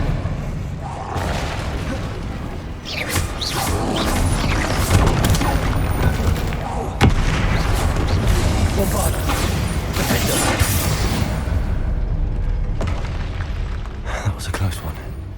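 Bombarda spell explosions in the video game Hogwarts Legacy, heavy booming blasts and bursts stacked over continuous battle noise, with character voices shouting throughout.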